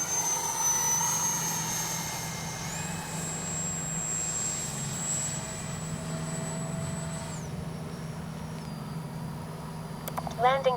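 A Freewing F-22 RC jet flies a low pass with its landing gear down, its ducted-fan engine whining in a steady high tone that shifts pitch as it passes, with people talking nearby.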